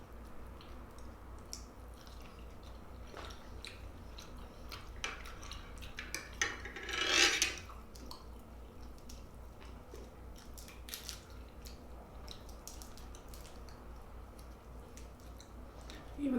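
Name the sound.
chewing surf and turf, shrimp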